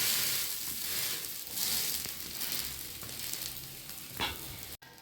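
An oats sandwich fries in oil in a pan, a steady close sizzle and crackle that swells and eases, with faint stirring clatter and no talking.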